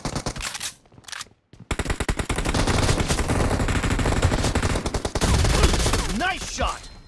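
Automatic weapon fire in the battle royale game PUBG rattles in a dense, loud sustained burst after a brief quiet gap, ending with a short tail of other game sounds.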